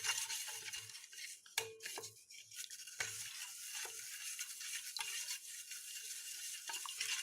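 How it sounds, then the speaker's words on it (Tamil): A spoon or spatula scrapes and stirs sugar and butter in a pan, with soft irregular metallic scraping and light clinks over a faint steady hiss, quiet and close. "இந்த சர்க்கரை மெல்ட் ஆகட்டுங்க, அது வரைக்கும் கிளறிடலாம்."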